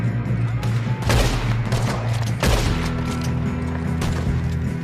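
Gunfire in Red Dead Redemption 2, a few sharp loud shots and bursts over a busy game soundscape with a low droning tone underneath, close and prominent.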